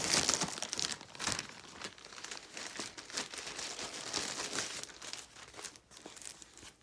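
Sealed plastic sticker packaging torn open by hand, a run of loud close crinkling and crackling with sharp tearing bursts, irregular and continuous, no talking.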